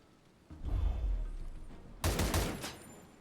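Gunfire in the turn-based game First Strike: Warhounds, with a deep rumbling burst followed by a sharper, crackling volley of shots striking armor and cover, close and fairly loud with no voices.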